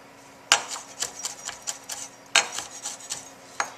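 A knife mincing fresh herbs on a cutting board for lamb chop butter, two quick bursts of sharp rhythmic chopping taps with brief pauses between them.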